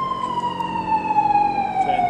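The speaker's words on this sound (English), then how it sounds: "you'll hear this siren going off the whole entire time until it gets to where it needs to be." A siren wails continuously while the arena scoreboard is lowered from 168 feet at T-Mobile Arena in Las Vegas, a steady tone gliding slowly downward and sounding close and fairly loud.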